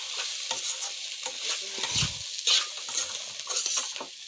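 Green peas and pea pods cooked in a pan are stirred with a spoon, giving soft scraping and clinking strokes over a light sizzle, close and fairly quiet.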